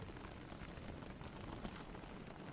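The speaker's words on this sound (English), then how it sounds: "This rain is never going to end, is it?" Rain falls steadily in the video game Don't Starve, a dense, even patter of drops on surfaces, quiet and continuous with no voices.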